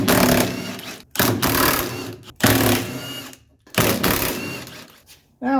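Power-tool bursts undo the 13 mm bolts on the differential of a 1984 Mercedes 300TD. Four loud mechanical runs, each a second or more, are broken by short gaps and end in a brief whir.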